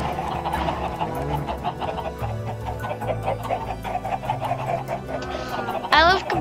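Chickens cluck repeatedly in Minecraft over a busy electronic music bed, with sharp game-like chirps and a brief rising squawk near the end.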